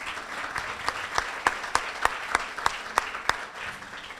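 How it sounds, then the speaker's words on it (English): Applause from a gathered audience at a breast cancer fundraising kickoff event, a steady wash of many hands with a few louder individual claps standing out at a regular beat, moderately distant and without voices. "I want to have you guys give yourselves a round of applause for your involvement tonight."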